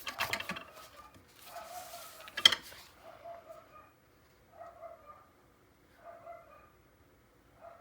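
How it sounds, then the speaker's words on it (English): A neighbour's dog barks faintly in the distance, several short spaced barks heard through an open door of a craft room, after some close clattering of tools and objects. "If you can hear that dog, it's my neighbor's dog"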